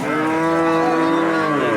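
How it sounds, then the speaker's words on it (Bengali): One very large cow lows loudly and steadily nearby at a cattle market in Keraniganj, a sustained moo with a wavering pitch that fills the whole moment. "বিশাল সাইজের গাই গরু দেখেন"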